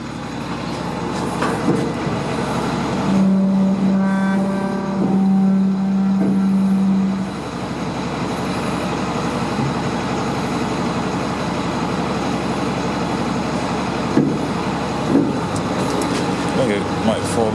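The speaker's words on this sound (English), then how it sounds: "Let's go ahead and operate the tailgate lift." Hydraulic tailgate lift on a 2003 International 4300 24 ft box truck runs with a steady motor hum and mechanical whine, punctuated by a few sharp tonal beeps early on, over outdoor background noise.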